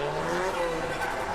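A turbocharged car with a big hood scoop, STI wing and front-mounted intercooler races hard in Sri Lanka. Its engine roars continuously with a rushing, whooshing hiss layered on top, close and loud, with no talk.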